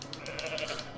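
Sheep bleating inside the video game Goat MMO Simulator, a continuous mix of several overlapping bleats at steady loudness with no talk.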